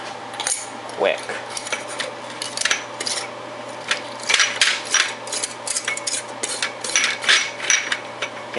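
A lid is screwed onto a glass jar of strawberry balsamic jam, with rapid scraping clicks and clinks of metal on glass repeating over several seconds, close and moderately loud.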